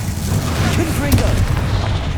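Confringo, an explosive fire spell cast in Hogwarts Legacy combat, landing as a loud, close boom with a crackling burst amid battle noise and speech.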